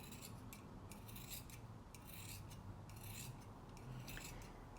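Scissors cutting through four folded layers of fabric, a steady close rasping of the blades that keeps repeating across the clip.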